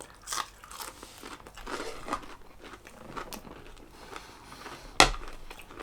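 Crunchy fried onion straws are bitten and chewed close up, producing a series of crisp crackling crunches, with a sharper, louder snap about two-thirds of the way through.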